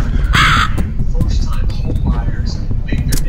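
A crow caws in the Sign of Silence game, a loud harsh call near the start, with players talking over the ongoing game sounds.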